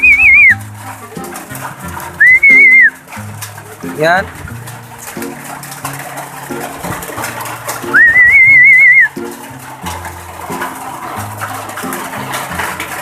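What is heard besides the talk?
pet birds calling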